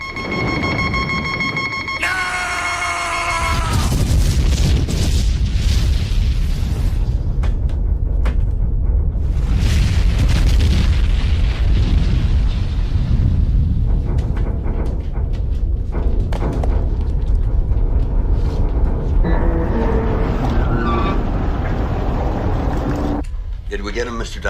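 Torpedo explosions in an action movie make a loud, sustained low rumble with deep booming blasts. Shouting voices sit over them, and a tonal alarm-like beep comes just before.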